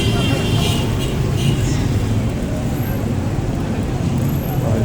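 Busy street traffic rolls through Peshawar's Karkhana Market on a Thursday, a dense wash of engines and road noise with passing vehicles and occasional horns, while someone talks over it.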